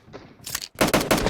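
Shotgun blasts in a video game, a short sharp burst followed by a few loud, close, closely spaced shots.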